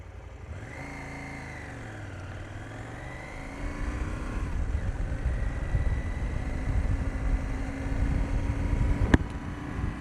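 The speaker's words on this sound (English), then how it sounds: "So engine sound and stock exhaust sound, 5 stars there as well." A KTM 790 Adventure motorcycle on its stock exhaust, heard from the rider's position as the engine revs and pulls through the gears with a steady mid-pitched drone over wind rumble, ending with a brief sharp click.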